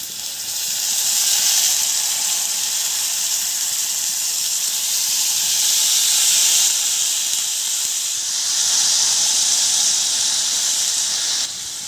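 Water poured into a hot pot of pigeon meat and potato curry sets off a loud, steady steam hiss and sizzle that runs unbroken for the whole stretch, swelling slightly in places.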